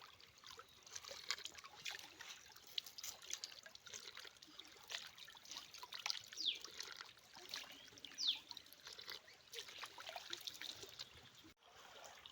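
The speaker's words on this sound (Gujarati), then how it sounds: "અહીંથી આવે છે પાણી આમાં જાય છે" Water trickling and gurgling steadily through a farm irrigation channel beside fields of sesame and millet, a faint continuous outdoor flow with small splashes and no talk.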